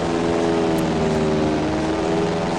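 A loud, steady airplane engine in Grand Theft Auto: San Andreas drones with a propeller-like hum, continuous and unchanging throughout.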